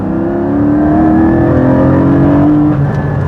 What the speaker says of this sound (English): There is a sport exhaust button you can push. Right now it's off. Now I turn it on.